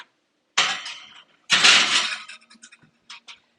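A vegan pumpkin pie in its metal pan being slid into an oven, with two clattering scrapes of metal on the rack followed by a few light clinks and taps.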